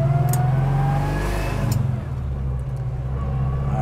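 A 1961 Pontiac Tempest four-cylinder engine revs up in first gear, a loud low rumble rising in pitch over the first two seconds, then easing into a steadier, softer drone heard from inside the car.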